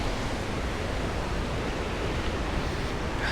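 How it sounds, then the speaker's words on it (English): Rushing mountain water along a forest trail on the way to Comet Falls, a steady broadband roar that holds unbroken throughout, close and fairly loud, with no voices over it. "Water come shooting down the mountain"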